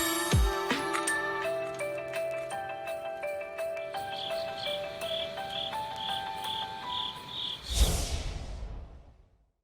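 Crickets chirp steadily in a repeating, high-pitched trill, with a ringing electronic-like tone and a brief whoosh near the end, no voices.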